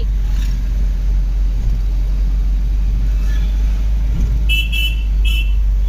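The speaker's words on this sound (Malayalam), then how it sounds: "ഇതാര വണ്ടി ഓട്ടുന്നേ" A car drives along a road, heard from inside as a loud, steady low engine and road rumble throughout, with faint voices in the cabin.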